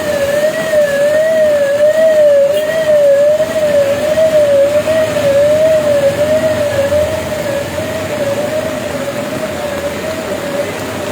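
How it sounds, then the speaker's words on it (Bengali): An ambulance siren wails steadily with a rising and falling tone on a knee-deep flooded main road in Cox's Bazar after heavy rain. It sounds loud and close over constant rushing water and road noise, with no talk. "আমরা দেখছি একটি অ্যাম্বুলেন্স আসছে, সেই অ্যাম্বুলেন্সটিও এই পানি দিয়ে যাবে অবশ্যই।"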